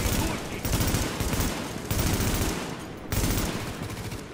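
Automatic gunfire from the video game The Division comes in three loud, rapid bursts of shots separated by brief pauses, filling the whole stretch with dense, close-sounding fire.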